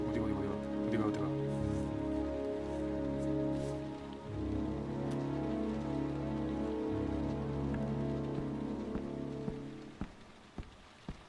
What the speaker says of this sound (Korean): 이 게임은 내내 비가 오네.